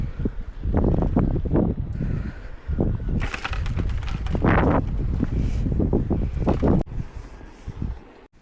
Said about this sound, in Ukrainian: дуже холодний сильний вітер піднявся.